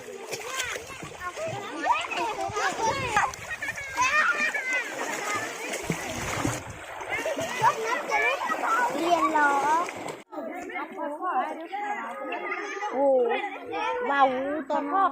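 Children splashing while bathing in a natural stream, with continuous watery splashes and flowing water mixed with loud, lively children's voices chattering and shouting throughout.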